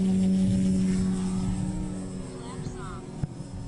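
A radio-controlled model airplane from an RC flying club takes off, its propeller drone steady and loud at first, then thinning and fading as the plane climbs away, with a sharp knock near the end.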